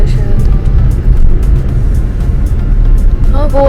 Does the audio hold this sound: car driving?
yes